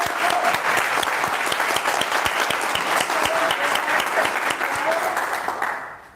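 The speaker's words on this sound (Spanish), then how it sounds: "vamos a darle un gran aplauso otra vez a la doctora Rocío" Warm applause from a seated audience after a heart-health talk, dense clapping with a few sharp individual claps standing out, holding steady before fading at the close.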